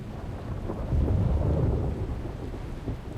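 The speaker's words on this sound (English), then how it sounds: "It was a dark and stormy night." A thunderstorm in the Sam & Max video game: a deep roll of thunder swells and fades over constant rain hiss, with no voices.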